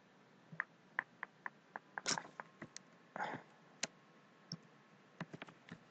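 Quiet, sharp computer mouse clicks tap out in an irregular series, some single and some in quick pairs, close up in a near-silent room.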